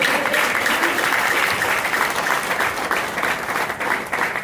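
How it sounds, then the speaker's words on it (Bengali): Loud audience applause at a motivational speech event, many hands clapping in a sustained, even wash that holds at full strength for several seconds, with no voices over it. "জোরে হাততালি মারুন"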